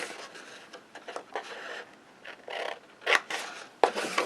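Scissors cut along a paper tab on an advent calendar box, close and fairly quiet, as a run of short irregular snips and crisp paper rustles with a few sharper clicks near the end.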